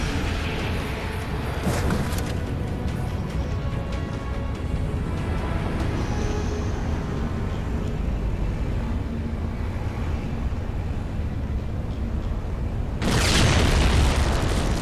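A long, steady rumbling roar of a ship flying off and exploding in the video game Halo, mission Reclaimer, with engine noise, ending with a sudden louder burst of crackling noise near the end.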